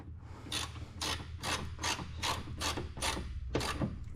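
A ratchet wrench tightens the small bolts on a plastic coolant tank of a 2006 Mazda Miata. About eight crisp, evenly spaced clicks sound close up and steady.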